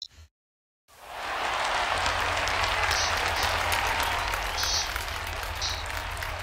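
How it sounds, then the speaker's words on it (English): After a brief silence, a wide, sustained wave of audience applause rises and holds steady and loud, with a few brighter cheers poking through the clapping. "I never want to stop the cheering"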